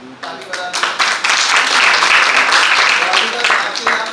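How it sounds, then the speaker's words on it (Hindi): An audience at an institute session on incubation and collaboration breaks into dense, steady clapping that lasts for several seconds, with a voice speaking over it. "उसके लिए प्लीज एक बार आप लोग ताली बजा दीजिए।"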